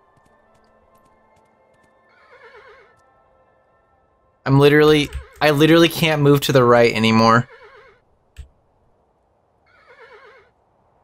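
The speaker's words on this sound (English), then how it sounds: "The horse is scared." A horse in the video game Kingdom whinnies softly twice, once early and once near the end, with clip-clop motion underneath, while a person speaks loudly over the middle.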